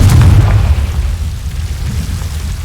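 Confringo spell blast in Hogwarts Legacy, a loud deep boom right at the start that rumbles and slowly fades over a couple of seconds, with no voices.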